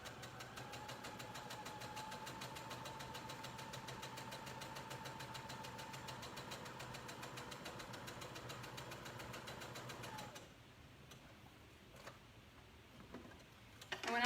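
A sewing machine runs a long gathering stitch at stitch length 5, a fast steady mechanical whir for about ten seconds before stopping, followed by quiet handling noises and faint clicks.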